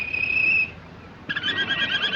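Caged songbird in a 1930s French spy film scene, giving two short bursts of high, clear whistling trills separated by a brief pause, close and fairly loud with no talk.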